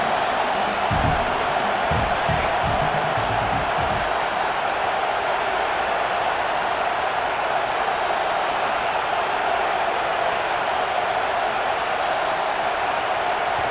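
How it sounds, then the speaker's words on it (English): A steady, dense stadium crowd roar in the video game EA Sports College Football 26 fills the space, a continuous wash of many distant voices with no clear breaks or peaks. "Listen to the crowd energy here in the early going."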